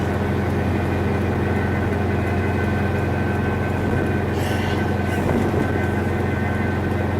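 A Ford RS project car engine struggles to idle, making a loud, constant low drone with a slightly uneven, rough texture and a brief hiss midway.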